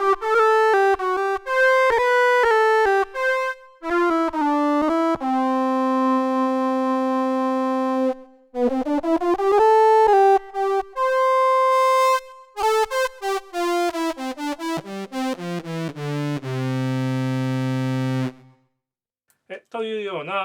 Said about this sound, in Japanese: 今ディレイとリバーブをかけますが